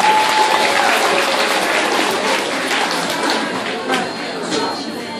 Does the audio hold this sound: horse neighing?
no